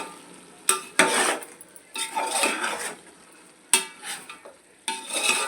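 Ginger garlic paste fries in a pan for mutton pulao, heard as a soft sizzle under bursts of spatula scraping and metal clanks against the pan.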